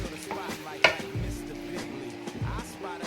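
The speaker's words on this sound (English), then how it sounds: "Stir that up." Kung Pao chicken being stirred in a hot pan with sauce and sugar just added, a quiet continuous scraping and sizzle with one sharp clack of the utensil against the pan.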